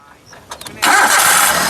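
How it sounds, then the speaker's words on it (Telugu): A few quick clicks and a brief crank, then a 2010 Maruti Alto LXi engine fires up loudly on a single self-start and settles into a steady running roar. "ఒకసారి స్టార్ట్ చేసి చూపిస్తాను స్టార్ట్ చేయి"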